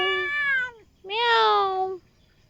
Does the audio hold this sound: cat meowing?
yes